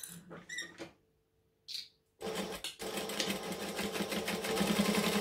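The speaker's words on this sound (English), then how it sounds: "I'm just going to stitch down across the bottom and up the side." Sewing machine stitching down the bottom and up the side of a clutch panel with an eighth-inch seam allowance, a few short whirring runs, a pause, then a longer steady run close by, no talk.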